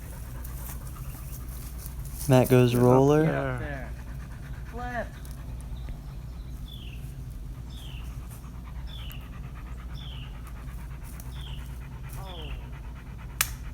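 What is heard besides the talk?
dog panting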